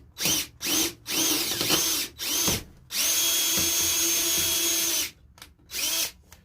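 A handheld power drill whirs in short bursts while boring a hole for a 209 primer trip wire, starting and stopping several times before one longer continuous run, then a final brief pulse, close and fairly loud.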